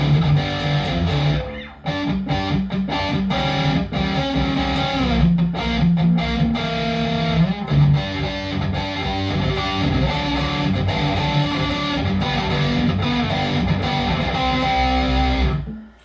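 An electric guitar played through a live rig with distortion and only light reverb, a continuous, loud, close and fairly dry performance that cuts off abruptly at the end.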